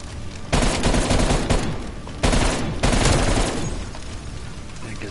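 Rapid bursts of automatic gunfire from the zombies mode of Call of Duty Black Ops Cold War, dense and loud, with several sustained volleys and short gaps between them.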